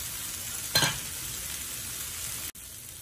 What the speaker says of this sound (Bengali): ভালো করে ভাজা হওয়া পর্যন্ত অপেক্ষা করব।